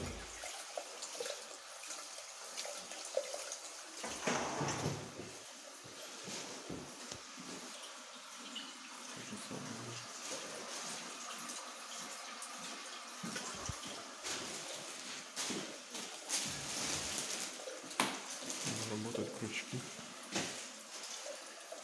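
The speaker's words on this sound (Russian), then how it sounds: "Водичка бежит." Water runs without stopping in a toilet at Stryi railway station, a continuous rushing and splashing wash with faint voices talking in the background.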